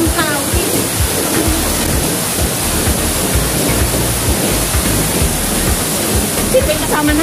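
Tsuen Wan waterfall pouring with a loud, steady rushing roar of falling water, close by, with people's voices faintly mixed into the wash.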